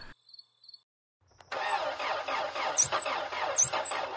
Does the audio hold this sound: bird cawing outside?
no